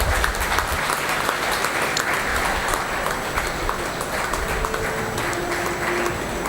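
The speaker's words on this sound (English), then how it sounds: "So give a huge round of applause to Sam." An event audience applauds Sam with loud, dense clapping from a large crowd, unbroken and even for the whole six seconds.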